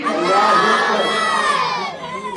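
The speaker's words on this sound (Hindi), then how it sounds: "एक बार बाबा से बड़े नारा लगाए यहाँ से, नारे तकबीर, नारे तकबीर।" A large crowd at a religious naat gathering chants the Takbir slogan in unison, a loud, sustained mass of voices that swells and then tapers off.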